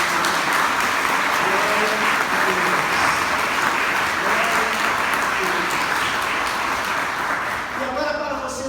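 Sustained applause from a church congregation, steady and loud throughout, with faint voices mixed in.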